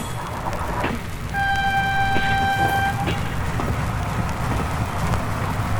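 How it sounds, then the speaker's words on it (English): A train pulling into a station as a radio drama sound effect: steady rumble of rolling rail cars with a clear two-tone horn blast sounding for about two seconds, then continuing low clatter. "As the train pulled into the station, King looked for the man on the platform sent to help him."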